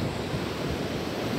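Ocean waves breaking at a beach, a steady broadband wash of surf with gusty wind noise, continuous and fairly close for the whole moment.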